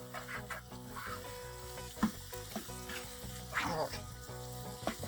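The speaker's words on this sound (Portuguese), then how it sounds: "Agora nós vamos mexer bem isso aqui." Soft sizzling and intermittent spoon scrapes come from chicken for a creamy fricassee being stirred in a pan with colorau seasoning. The sound is fairly quiet, with a faint tonal hum in the background.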